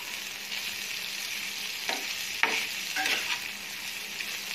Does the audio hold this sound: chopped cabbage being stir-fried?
yes